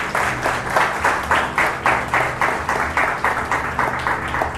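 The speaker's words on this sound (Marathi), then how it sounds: "आणि टाळ्या वाजवा त्याच्यासाठी" A church congregation clapping together during a sermon, loud rhythmic group claps in an even steady beat of roughly three per second.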